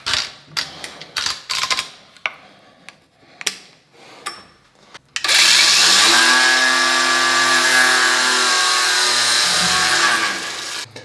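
A grinder fitted with a 3D printed grinding disc cuts into material, first in short irregular bursts, then in one loud, steady, high-pitched grind lasting several seconds before winding down.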